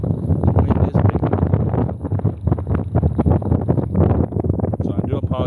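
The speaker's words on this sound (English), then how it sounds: "So I do apologize for the wind." Strong gusting wind buffets the microphone outdoors by the water on a bass fishing trip, loud, low rumbling and continuous, with a person talking throughout.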